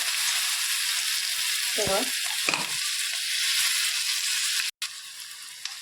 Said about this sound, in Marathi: चांगलं असं मिक्स करून घ्यायचं आहे छान असं परतलं गेलेलं आहे